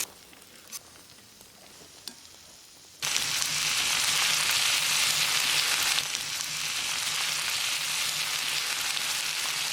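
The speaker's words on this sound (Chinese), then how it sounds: "用小火把牛肉慢慢煎熟，一面煎好再煎另一面" Marinated beef slices sizzle on an oiled iron griddle with onions, a loud steady frying hiss that jumps up abruptly after a quieter opening and holds close and continuous to the end.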